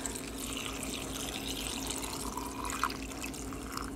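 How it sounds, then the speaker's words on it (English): Brine poured over hot peppers and garlic packed in a jar, a steady close splashing and trickle of liquid running continuously for a few seconds, with no talk over it. "And then you just pour the brine over top."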